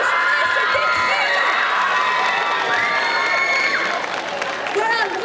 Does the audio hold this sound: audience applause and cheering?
yes